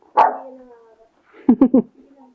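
A dog gives one drawn-out bark, then after a pause fires off three quick, loud barks in a row, close by.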